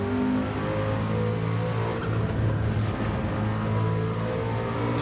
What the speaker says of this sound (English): Once you get on boost, those revs just rip through.